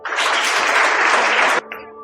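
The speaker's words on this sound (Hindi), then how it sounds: "द्रोणा जी के लिए एक बार जोरदार तालियां" Loud, dense applause from a seminar audience cheering for a participant, a thick wash of many hands clapping together that cuts off abruptly, leaving a faint tonal hum.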